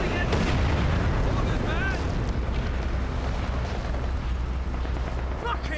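Company of Heroes 2 battle with mortar and artillery fire, a dense continuous rumble of distant explosions and booms layered under game noise, with a player speaking over it.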